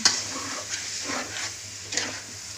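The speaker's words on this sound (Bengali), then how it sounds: "এখন এই পর্যায়ে আম্মু হচ্ছে মশলাগুলো কষিয়ে নিচ্ছে।" Spices being sautéed for a Bengali village-style broiler chicken bhuna curry, with soft sizzling and occasional scraping stirs of a spoon in the pan, close and fairly quiet, with no talk.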